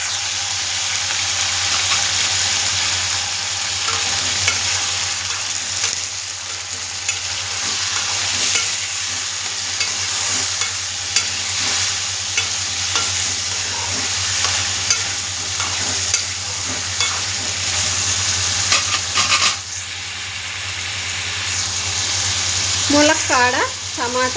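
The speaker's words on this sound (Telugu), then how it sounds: "ఫస్ట్ తాలింపు వేసుకోవాలండి పప్పుచారుకి, పెసరపప్పు పప్పుచారుకి" Tempering for moong dal pappu charu (garlic, curry leaves, dried red chillies and cumin) frying in hot oil, a steady close sizzle and crackle throughout with light stirring scrapes, no talk.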